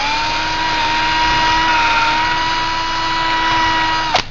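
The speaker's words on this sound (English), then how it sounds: "take your drill bit, stick your drill bit in the top, make sure it's straight" A power drill whines at a steady high pitch, running continuously up close as it bores into a CNG fuel nozzle clamped in a vise for a 2005 Ford Taurus, then stops abruptly with a brief clatter at the end.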